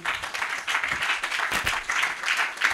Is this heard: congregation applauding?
yes